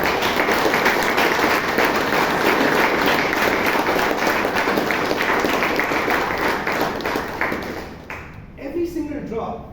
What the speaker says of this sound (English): Can we have a huge round of applause for every single member in this club?